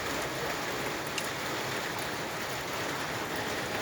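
Rainwater flows steadily into a home rainwater collection setup, a dense, even rushing wash with no break or change, fairly loud and without voices.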